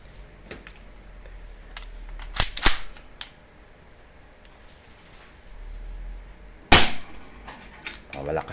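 K32DC spring airsoft gun test-firing: two sharp cracks a few seconds apart over quiet room noise, with small clicks and handling sounds between them and a person talking briefly.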